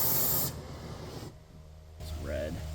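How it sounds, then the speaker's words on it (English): Steady broadband roar of a torch flame heating a seized leaf spring bolt on a 2003 Ford Excursion, loud and continuous at first, dipping briefly, then resuming with a faint voice over it. "I'm gonna hit it with a torch and get it a little red"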